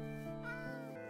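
A Minecraft cat meows in a close, clear, drawn-out call that rises and falls, followed by a second short mew near the end, with no talking.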